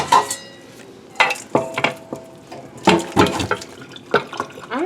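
Broth drained from a cooking pan while making stuffed salmon, with irregular pouring splashes and metallic clinks of pot and utensils in bursts, close and fairly loud, no talking.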